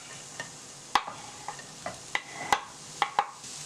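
Onions and bell peppers cooking in a pan on the stove for cod à la provençale, a soft continuous sizzle punctuated by sharp clicks and taps of a utensil against the pan, quiet and close, with no talking.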